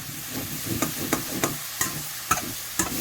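Meat browns in a pot on a low, steady sizzle, punctuated by about eight sharp scrapes and knocks of a utensil at irregular intervals.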